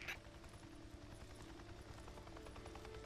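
Helicopter in the Days Gone video game, a steady low rotor drone filling the background throughout with no talk.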